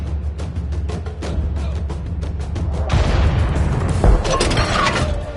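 A World of Tanks tank gun firing, a heavy booming blast rising out of a steady engine-like rumble, followed by a second deep impact a moment later, loud and close with no talk.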